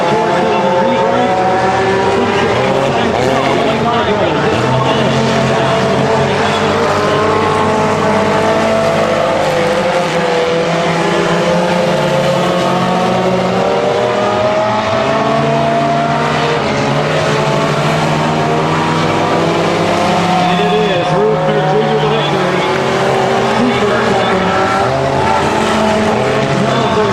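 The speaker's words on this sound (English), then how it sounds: "It's going to be Don Rooster Jr. to win tonight in the four-cylinder heat race" Four-cylinder race cars circulate in a speedway heat race, a loud continuous engine drone that stays steady throughout, with a commentator's voice running over it.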